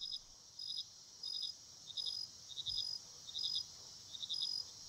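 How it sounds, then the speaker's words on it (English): Crickets and forest frogs chirp at night in a forest, a steady pattern of short bright pulse bursts repeating about every second over a quiet hiss, with no voices. "replacing them with the chirps of crickets and forest frogs."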